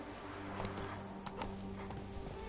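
Roach, the horse in The Witcher 3, trots with a regular, quick clip-clop of hooves, moderately close, over a low steady game ambience.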